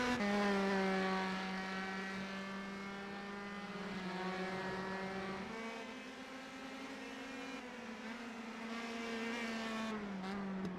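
Race cars run around the track in an Italian Grand Prix racing video game, a steady multi-car engine drone with shifting harmonic pitch that rises and falls as cars pass, with no talking.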